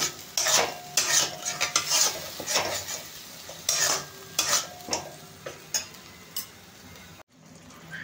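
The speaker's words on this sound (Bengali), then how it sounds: "এটা দিয়ে একটু কষিয়ে নিতে হবে যাতে আদার কাঁচা লঙ্কার কাঁচা গন্ধটা চলে যায়।" Ginger and green chilli sautéed in a pan for a mixed vegetable dish, with rapid scraping and clattering spoon strokes over a light sizzle, then a short pause just before the end.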